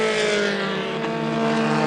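Formula 4 race cars approach on the track at an F4 SEA 2018 race, a loud sustained engine whine with a rising and falling pitch, heard without talk.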